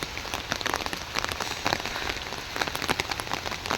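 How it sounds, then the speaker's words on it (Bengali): Rain falling steadily onto a surface, a dense patter of many close drops with irregular louder splashes and no voices. "এতক্ষণ একটু বেশি বৃষ্টি ছিল, এখন আবার একটু কমতেছে"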